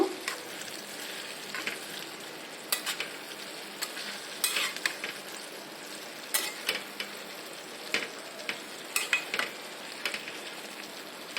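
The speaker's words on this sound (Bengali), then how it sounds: "এটা ভালো করে একটু নাড়াচাড়া করে দিব।" Red amaranth greens (laal shaak) are stirred in a pan, giving repeated clicks and scrapes of a utensil against the metal over a steady soft sizzle.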